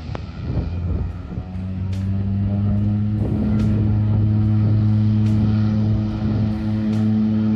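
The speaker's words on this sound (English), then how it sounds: "Listen to that engine spool." A de Havilland Otter aircraft engine spools up, a loud steady propeller drone with sustained low harmonic tones that build and hold, close and continuous with no talk.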